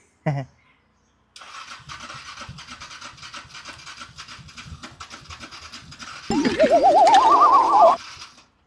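A motorbike with about 8,700 km on it, left standing unused for a month and a half, is cranked with faint scraping and clicking before its engine catches and runs loudly for a couple of seconds, then cuts out.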